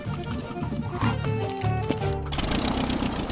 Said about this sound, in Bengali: এর আওয়াজটা লন মোভার ইঞ্জিনের মতো কেন?